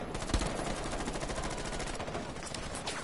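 Rapid automatic gunfire in a PS4 first-person shooter, a dense continuous burst of shots striking the player, loud and close throughout with no talk over it.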